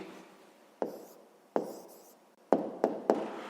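A pen scratches out an answer on paper for a fifth-grade math exercise, in short strokes broken by five or six sharp taps as it lifts and touches down, close and fairly quiet with no talking.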